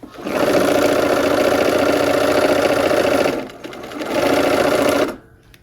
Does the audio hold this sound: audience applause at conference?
no